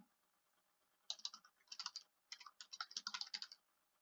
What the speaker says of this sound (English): I will type in my name